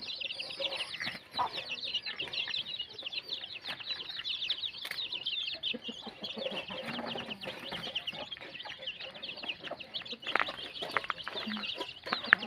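Chickens being fed termites outdoors on a morning visit to a forest vegetable garden: continuous soft clucking and murmuring from several birds close by, with occasional wing flaps and a few sharper calls.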